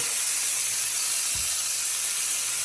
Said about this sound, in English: then we'll start adding our mixture, our pork mix. All right, and then we'll stir fry that together